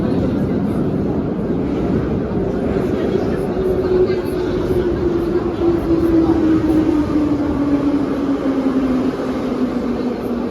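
An underground metro train in Ukraine rumbles steadily through a tunnel, a continuous roar with a low whine shifting slowly in pitch, loud and close.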